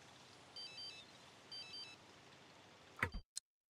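A Sims 3 video game phone rings with two short bursts of bright electronic trills separated by a pause, soft over quiet background hiss, followed by a couple of sharp clicks.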